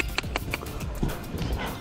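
A horse canters on a longline, its hooves beating out a quick, rhythmic clip-clop close by.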